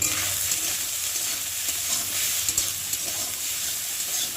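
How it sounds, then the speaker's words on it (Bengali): Soya chunks fry in a pan with turmeric and salt, giving a steady, close sizzle with light stirring scrapes throughout and no voices. "আর একটু এর মধ্যে দেবো হলুদ গুঁড়ো আর দেবো নুন দিয়ে ভালো করে সয়াবিনটাকে ভেজে নেব"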